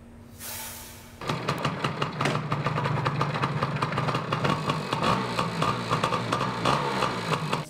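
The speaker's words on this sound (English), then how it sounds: "A revving engine." A racing engine idles and then revs, with a short tone at the start before a sustained, loud, busy run of engine noise at a racing event that carries steadily to the end.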